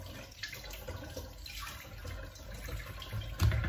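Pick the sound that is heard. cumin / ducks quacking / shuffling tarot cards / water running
water running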